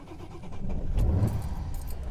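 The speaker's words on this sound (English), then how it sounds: "Starts right up at least." A classic car's engine cranks and catches on a cold day, a low rising rumble that settles into a running idle, with keys jangling close by at the start.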